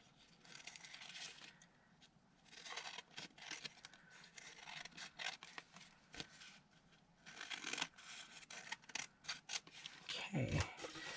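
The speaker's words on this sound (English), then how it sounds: "now lift this up and go to the back and just trim the excess off" Scissors trim excess paper off the back of a small handmade card piece, a run of soft close rasping snips and rustles that grow busier toward the end, with faint voice underneath.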